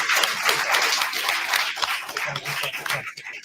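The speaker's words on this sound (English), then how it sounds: "I want to publicly give them a round of applause." Audience applause at a city candidates forum, a sustained round of clapping from a moderate crowd that thins toward the end.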